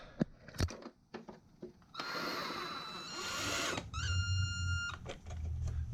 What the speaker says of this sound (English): Now I take my drill gun